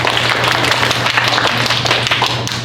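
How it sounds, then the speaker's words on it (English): A school awards-night audience gives a sustained round of applause, dense and steady clapping filling the room from start to finish with a constant hum underneath. "give her one more round of applause"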